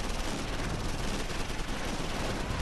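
Dense, continuous battlefield gunfire from the World War II strategy game Close Combat IV, set at Losheim on 17 December, a steady loud barrage of overlapping shots and rumbling fire with no clear breaks.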